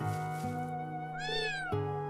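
A cat in the PS4 game Trails of Cold Steel III lets out one drawn-out, tonal meow near the middle, heard over steady sustained background music.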